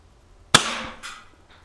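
A single sharp crack from a Cybergun Colt 1911 airsoft pistol fired at a target, close and fairly loud, with a brief rattle and faint after-knocks.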